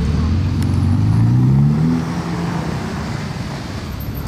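Several Ferrari SF90s, including a Spider, roll past at a Ferrari rally at Le Mans, a low engine drone swelling as a car goes by and then easing into a steady, moderately loud hum.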